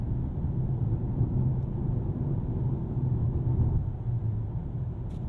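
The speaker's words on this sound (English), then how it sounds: "As the speeds pick up, let's listen for the NVH level. It's a lot of tire noise." Steady, loud low road rumble and tire roar fills the cabin of a high-performance car at speed, constant and unbroken with no voices.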